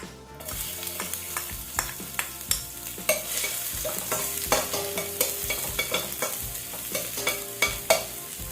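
Garlic fries in hot olive oil, a dense steady sizzle with frequent sharp crackles and pops, close and fairly loud throughout with no voices.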